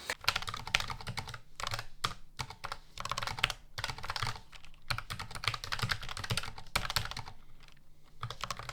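Steady typing on an MX Mechanical keyboard, dense clacking keystrokes in quick bursts with brief pauses, close and clear.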